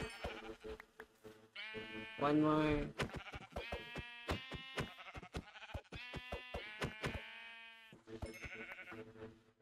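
Sheep in the video game Minecraft bleat repeatedly, with several wavering, tonal bleats in close succession, amid clicks and game sounds, with a person briefly speaking over them.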